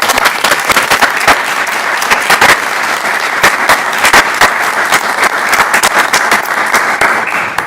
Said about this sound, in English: So let's give her applause for that.